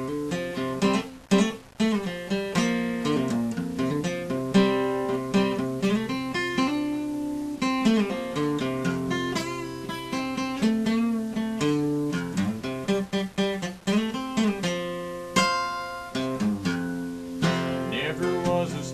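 Electric guitar playing a riff at normal tempo, a bright, continuous country-rock line with dense picked notes and steady chord accents throughout, loud and close with no talking.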